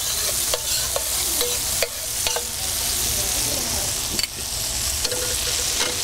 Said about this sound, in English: And we put the butters down first.